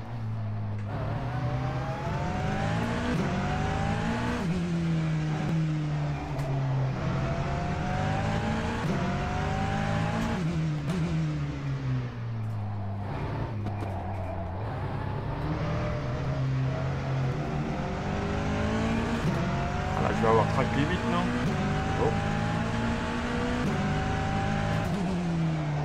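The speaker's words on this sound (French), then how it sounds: "Advanced Simulation, ils aiment bien mettre le son des pneus." A Porsche 963 LMDH race car in the rFactor 2 driving simulator sounds its engine in a continuous, loud drone that rises and falls through gear changes, with squealing tyres throughout.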